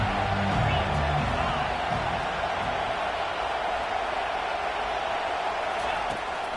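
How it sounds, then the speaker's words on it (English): A stadium crowd roars in the NCAA 25 college football video game, a steady wash of cheering with a game commentator talking over it. "This crowd knows when to bring it"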